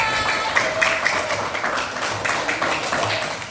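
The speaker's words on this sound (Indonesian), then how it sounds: "Tepuk tangan untuk kita semua." A classroom of schoolchildren claps together in a quick, patchy burst of hand claps. The clapping is fairly near and steady throughout and carries some high-pitched tapping, with no clear voice above it.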